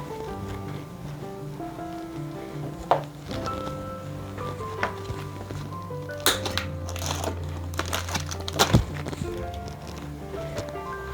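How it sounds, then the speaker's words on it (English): An SE Bikes Blocks Flyer is unpacked from its box as ties are cut and foam is pulled away, giving scattered rustles, crinkles and thumps under background music. "Cut the ties, take the foam, separate everything, get it ready to do the final assembly."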